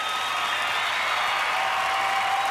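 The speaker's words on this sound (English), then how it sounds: "I think a big round of applause for Scott." A studio audience applauds a contestant who has made the Australian Gladiators semi-finals, a steady wash of clapping that holds at an even level for the whole stretch with no voices on top.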